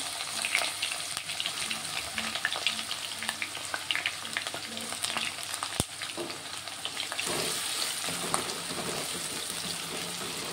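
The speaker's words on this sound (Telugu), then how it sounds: "నేనైతే ఉల్లిగడ్డ వేసుకుంటున్నాను" Onions sizzle and crackle in hot oil for a Telugu brinjal-potato curry, a steady close frying hiss with occasional stirring scrapes and no talk.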